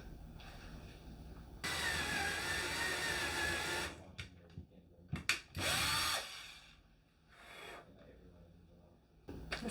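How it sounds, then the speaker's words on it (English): A power drill pre-drills a hole into a wall stud: a sustained high whine of about two seconds, then short bursts and a final longer run, close up, with brief quiet gaps. "seems like they need pre-drilling because they're not going into the stud."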